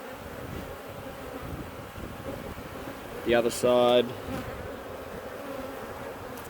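Honeybees buzz in a continuous, dense drone around an open hive full of capped brood during an inspection, close and steady, with a louder, pitched buzz sweeping past briefly near the middle and a voice speaking a few words.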